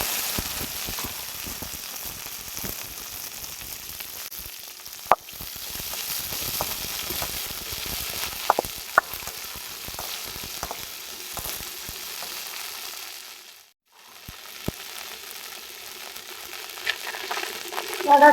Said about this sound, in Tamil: கடுகு கடுகு பொரிஞ்சோடனே வெண்டைக்காய் சேர்த்து